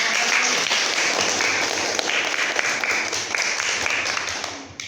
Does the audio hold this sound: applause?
yes